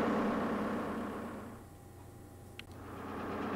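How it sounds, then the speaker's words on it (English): Hawker Siddeley Lister engines running in a lighthouse engine room, a steady low diesel drone and hum that dips briefly in the middle, with a single short click. "the engine room is going to be rather noisy, so I won't be able to speak up there"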